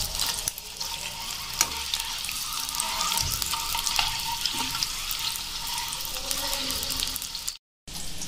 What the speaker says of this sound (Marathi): आता मी इथे अंडे फ्राय व्हायला टाकलेले आहेत. आपल्याला हे अंडे थोडे बारीक गॅसवरती